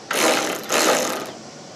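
A Snap-on FTXR 40 tamper-resistant Torx bit, owned since 1991, is worked by a ratchet while fitting a soft top on a Chevy K5 Blazer M1009 CUCV: two close, brisk clicking ratchet strokes, each about half a second.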